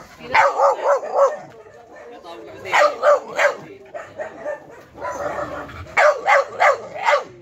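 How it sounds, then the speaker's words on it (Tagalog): Several dogs bark in repeated bursts of four or five yaps, pausing between volleys, with some whimpering in the gaps. "Yan, nagtahulan na yung mga aso."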